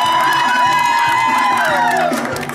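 A party crowd honoring a woman named Dayana erupts in loud, continuous cheering and shouting with whoops, a dense close wall of voices that fades slightly at the end.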